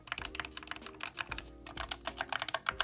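Fast, steady typing on an Epomaker Skyloong SK61 mechanical keyboard with yellow switches, a dense run of crisp keystrokes heard up close with no voices.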